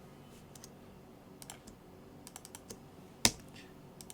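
Computer keyboard keys and mouse clicks while editing in Maya, a scattered series of light, close taps and clicks in an otherwise quiet room, with one sharper, louder click near the end.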